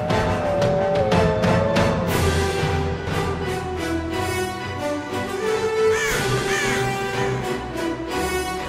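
Raven calls from the Guild Wars 2 Uncertain Allies trailer, set among spirits of the wild, cawing over a continuous, dense orchestral score that stays loud throughout.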